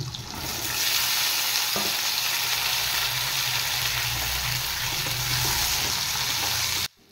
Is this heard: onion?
yes